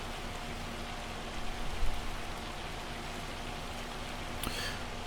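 Hail falling steadily in the farming video game Farming Simulator 25, a constant dense hiss like heavy rain on surfaces, with a brief louder swell partway through and no voices.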